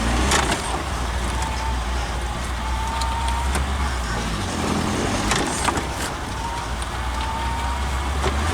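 A Suzuki Samurai with a Spartan front locker is driven and turned in 2-wheel drive, its engine a steady, close rumble with faint creaks and clicks throughout.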